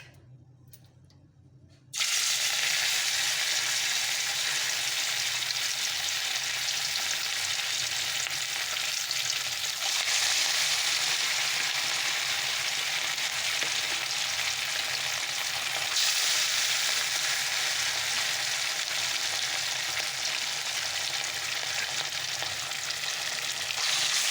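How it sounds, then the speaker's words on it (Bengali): Fish fries in hot oil in a wok: after a brief quiet start, a loud, steady, continuous sizzle fills the rest of the clip, with no talking. "চলো আস্তে আস্তে মাছগুলো ভেজে নেই"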